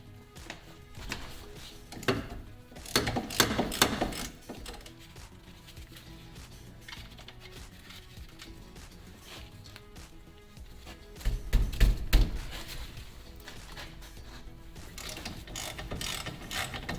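A ratchet clicks in short bursts while loosening the 14mm caliper bolts on a 2006 Subaru WRX, quick rapid pawl clicks close by, with quieter handling noises between the bursts and no talk.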